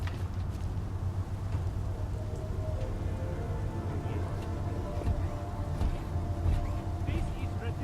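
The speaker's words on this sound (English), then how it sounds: "At least get us out of the rain." Steady rain falls in the game Deus Ex: Mankind Divided, a dense constant hiss and patter with a low rumble beneath, fairly quiet, with faint voices under it.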